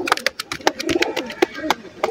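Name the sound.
cobra pigeon cooing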